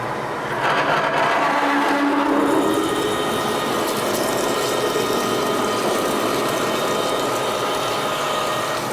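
Metal lathe cutting at 250 RPM with a steady rest on the workpiece, a continuous loud mechanical whir and grind holding steady throughout, with faint tonal whine in the mix.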